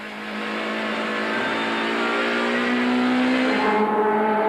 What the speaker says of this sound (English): With everyone on their last lap, there was a little daylight between Taylor and dos Santos